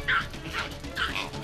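A dog barking in short excited yips and bow-wows, about three close barks in quick succession with faint whimpering between them, while chasing stray cats alongside another dog.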